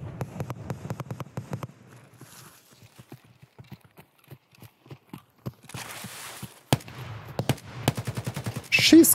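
Rapid gunfire in Escape From Tarkov, with bursts of quick regular shots separated by gaps and a few louder single cracks, close, while voices talk excitedly in between.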